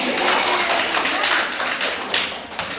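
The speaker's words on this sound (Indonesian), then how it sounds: "Tepuk tangan buat Pak Tri" A group of people clapping together for a teacher, a dense burst of applause that stays steady for a few seconds and thins out toward the end.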